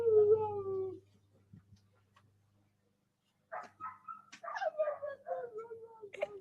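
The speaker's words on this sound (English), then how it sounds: "He heard dogs barking." Dog barks and whimpers, a cluster of yips and short barks after a quiet gap, with a louder tonal howl-like sound at the start.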